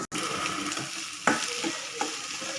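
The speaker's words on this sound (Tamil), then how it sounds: "இப்போ நம்ம வெங்காயத்தை நல்லா இப்படி வதக்கணும்." Onions sautéing in a pan for tempered curd rice, a steady close sizzle broken by a few sharp scraping stirs, alone with no voices.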